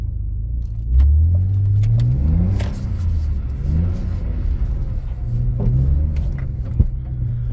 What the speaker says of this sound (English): That is the best drift I've ever done.